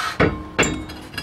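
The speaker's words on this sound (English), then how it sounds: "I just tapped here with a rubber mallet and I got it loose" Two sharp knocks of a rubber mallet on the back of a brake rotor on a 2008 Saturn Vue, close and loud with a brief ringing after each, then a lighter tap.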